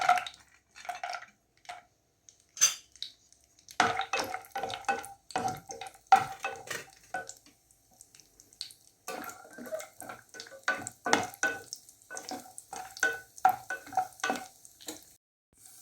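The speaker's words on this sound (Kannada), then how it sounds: "ಗೋಡಂಬಿ ಹುರ್ಕೊಳ್ಳೋಣ." Cashews fry in a pan for Karnataka-style kesaribath, with a soft close sizzle broken by frequent, irregular scraping stirs against the pan.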